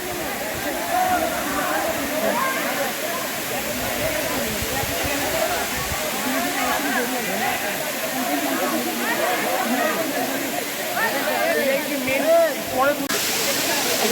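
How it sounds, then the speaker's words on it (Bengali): Khoiyachora waterfall, a large waterfall near Sitakunda, roars as a steady, dense wash of rushing water throughout, with a voice talking over it. "আমার পিছনে দেখতে পাচ্ছেন সেই ঝর্ণাটা সবচেয়ে বড় ধরনের"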